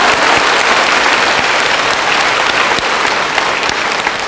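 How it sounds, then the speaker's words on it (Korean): A church congregation at a revival sermon breaks into loud, dense applause, vigorous clapping from a large crowd that holds steady throughout. "박수를 치려면 화끈하게 쳐보셔봐."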